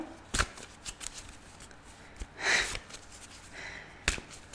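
Tarot cards being shuffled for a reading, a series of soft riffling and flicking bursts with a few sharper snaps, close and fairly quiet, with no talking.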